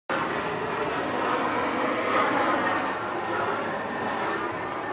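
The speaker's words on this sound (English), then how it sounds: "Here comes an airplane." A fixed-wing airplane passes overhead in a steady, broad roar that swells slightly and then holds, heard during a pause in a literature lesson with no speech over it.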